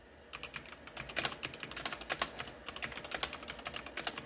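Rapid, uneven typing on a computer keyboard, a steady run of close, crisp key clicks with no talking.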